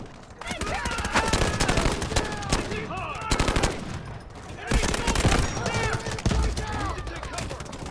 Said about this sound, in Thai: แต่งแบบนี้คือจากที่ลั่นช้าๆ นี่มันลั่นไวมากๆเลยเนี่ย